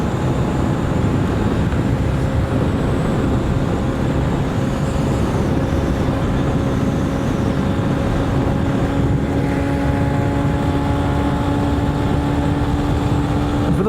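A derestricted 2023 Honda CB125F motorcycle cruising at speed on a highway, its steady engine drone mixed with continuous wind and road roar, loud and unbroken throughout with no voices.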